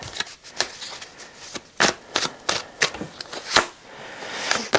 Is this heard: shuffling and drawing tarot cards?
yes